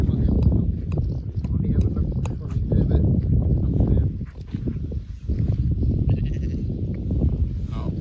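Sheep bleat repeatedly on an early-morning bike ride outdoors, a flock calling over steady wind or road noise, with a person talking among the animal cries.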